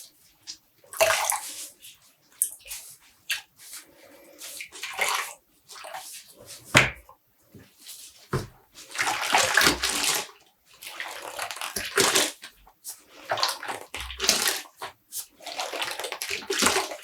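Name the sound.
squeezing water out of dyed yarn in a bathtub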